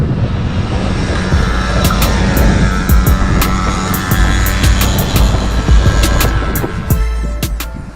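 A custom motorized gas bicycle engine roars loudly and continuously as it rides past at speed, a steady buzzing drone with sharp ticking clicks scattered throughout.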